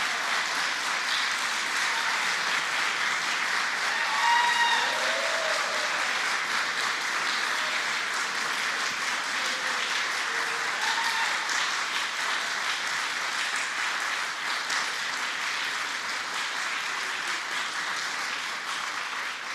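An audience at a governor's press event on pandemic reopening applauds steadily, a dense wash of clapping that holds for the whole stretch and tapers slightly near the end, with a few faint voices mixed in.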